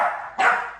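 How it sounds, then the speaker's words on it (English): A puppy playing with another dog gives two quick, fairly close barks, the second sharper and louder. "so that's the barking."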